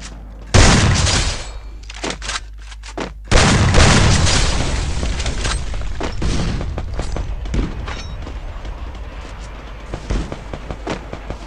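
In a video game firefight, a grenade goes off with a loud close boom, followed by bursts of gunfire and a second heavy blast, then scattered shots and rumbling trailing off; no one talks.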